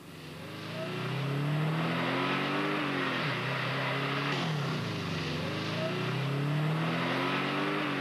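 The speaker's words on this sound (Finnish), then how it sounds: "käynnistää Subaru Legacyn" A 1989 Subaru Legacy engine turns over and catches, then revs up and down in steady pitch sweeps, loud and close throughout with no talking.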